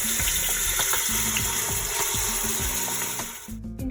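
Thick tomato paste mixture pours and splashes steadily into a pot, with small clinks of a utensil, then tapers off near the end.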